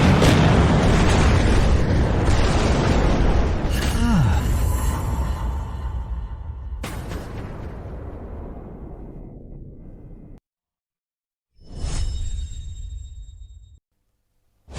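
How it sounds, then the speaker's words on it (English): Heavy booming blasts of cannon fire, with a thunderous roar that fades, a sharp crack, then another burst after a brief silence. "Fire the cannons!"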